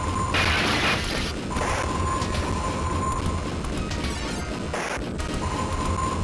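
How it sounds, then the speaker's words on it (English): Arcade game Alien Storm plays loud, dense action effects as aliens are shot: constant crashing blasts, mechanical clatter and booming hits layered over electronic tones, continuous throughout without speech. "you can shoot many aliens as you want"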